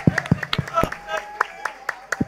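Audience clapping after a karaoke song at a yeshiva event, a scattered burst of hand claps with uneven rhythm from a modest crowd, with voices mixed in.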